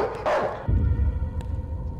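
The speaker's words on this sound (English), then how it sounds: "Dog, shut up." A dog in the horror video game Night People lets out a loud, close bark, followed by a low rumbling background, no talking.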